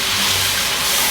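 Pieces of fried chicken for biryani being lifted out of hot frying oil, with a steady, close, broadband sizzling hiss running evenly throughout and no talking.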